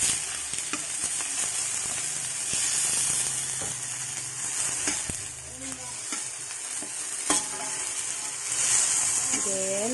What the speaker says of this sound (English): After that, we're going to add our ground pork meat. And stir constantly.